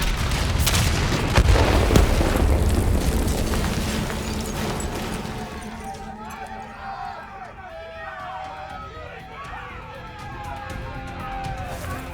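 A detonation in Call of Duty Black Ops 3 sets off a loud, deep rumbling boom that swells early, then fades into a lingering low roll under voices talking.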